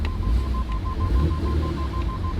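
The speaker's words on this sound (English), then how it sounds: "I don't know if you can hear all the parking sensors" A BMW E93's parking sensors sound in reverse while the car stays still, a thin, regular string of short electronic beeps over a low idling rumble.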